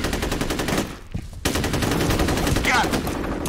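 Rapid gunfire from the video game F.E.A.R. in a combat deathmatch, dense bursts of shots filling the scene with a brief lull midway before the shooting resumes.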